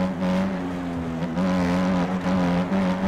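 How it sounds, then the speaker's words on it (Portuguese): Dirt bike engine in MX Bikes, revving hard and steady with a strong harmonic whine, pitch dipping briefly between gear changes and climbing again, loud and close throughout. "áudio de motor cheio"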